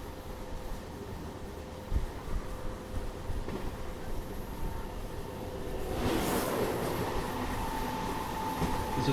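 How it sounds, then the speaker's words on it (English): An Indian Railways WAP-7 electric locomotive hauling an express train approaches near Bengaluru, a steady rumbling hum that swells louder toward the end with rising wheel and rail noise. "So there's a VAP 7 train approaching."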